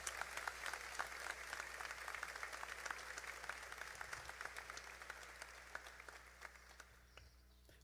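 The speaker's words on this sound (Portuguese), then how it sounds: "Pode aplaudir esse casal." A church congregation applauds a couple, steady dense clapping filling the room for several seconds before thinning out near the end.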